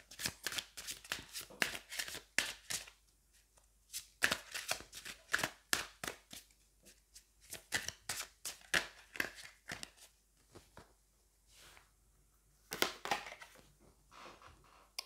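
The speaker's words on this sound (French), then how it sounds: "je vais aller prendre une carte ici" Tarot cards being shuffled and drawn by hand, a close series of crisp riffling bursts in quick rhythm with short pauses between rounds, heard alone without talk.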